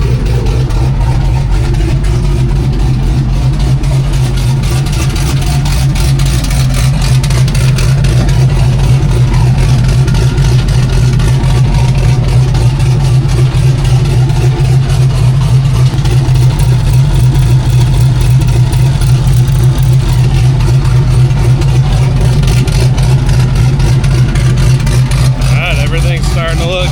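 A turbocharged junkyard 5.3 V8 running on 40 weight oil idles steadily and close by, with a deep, constant low rumble that holds even throughout with no revving.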